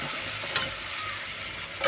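Boiled pitha dropped into a spice mix already fried down in a pan, giving a steady close sizzle with a brief louder burst as it goes in and another swell at the end.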